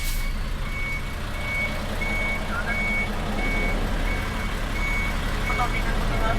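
A vehicle's reversing alarm sounds repeatedly as a truck practises backing up, with evenly spaced beeps over a loud, constant engine rumble.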